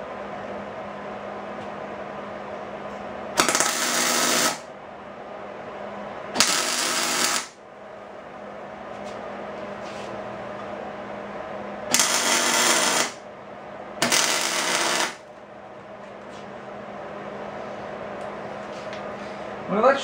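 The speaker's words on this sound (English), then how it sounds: "Alright, let's throw a couple of tack welds on here." Short MIG welder tack welds on a Datsun 521 ball joint part: four loud, crackling bursts of about one second each, spaced apart over a steady low background hum, with no talking.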